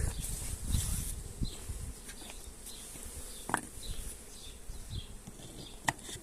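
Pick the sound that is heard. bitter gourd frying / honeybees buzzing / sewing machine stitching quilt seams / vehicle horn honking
honeybees buzzing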